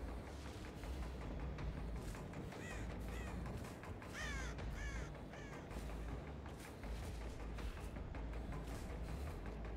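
Crows cawing in the horror video game Dead by Daylight, with several harsh caws rising over a dense, continuous low ambient rumble, fairly faint and distant.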